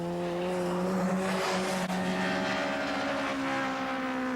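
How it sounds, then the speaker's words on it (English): A Cosworth-engined touring car races at Thruxton in the British Touring Car Championship, its engine holding a loud, sustained, steady drone close by with no break. "really wringing the last ounce of horsepower out of the Cosworth engine"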